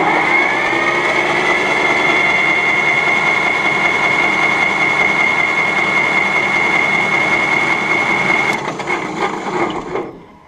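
A Case backhoe's starter motor cranks the engine in a continuous whirring grind, loud and close for about eight seconds before cutting off with a few clunks.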